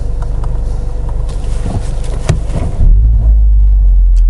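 A Ford Focus RS in drift mode rounds a small roundabout, its engine rumbling loudly and close with tyre and road noise, then settling into a deep, steady low drone as it exits.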